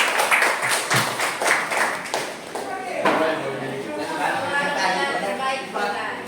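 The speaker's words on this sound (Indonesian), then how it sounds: "tepuk tangan lagi untuk kelompok 3" A chemistry class claps for group 3 during a project-based lesson on chemical equilibrium, a loose patter of hands in a room, with voices talking over it.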